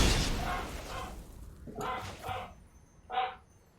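A dog lets out a few short barks and yips, spaced irregularly and fairly near, quieter between bursts.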